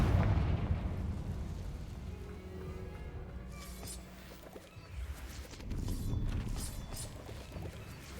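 A Confringo spell explodes in the video game Hogwarts Legacy, with a loud opening blast that decays into a rumbling tail and later smaller bursts and pops.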